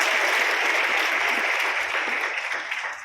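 A large crowd applauds in a dense, continuous roar of clapping that fades slightly toward the end, at a Republic Day ceremony.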